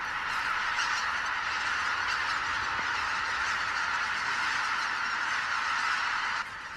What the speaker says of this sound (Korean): 사냥 전에 펼쳐지는 가창오리떼의 군무.